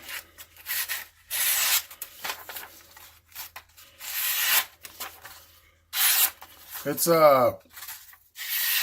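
Ruger LCK knife slicing through material in a cut test, a series of soft, dry rasping strokes in short bursts separated by pauses, close and fairly quiet, with a brief scraping squeal near the end.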